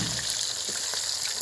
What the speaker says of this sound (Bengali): মাছটাতে প্রচুর তেল উঠেছে, মাছের তেলে মাছ ভাজা হয়ে যাচ্ছে